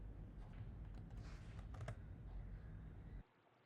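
Steady clatter of typing on a computer keyboard, a dense run of close key clicks for about three seconds before cutting off abruptly to near silence.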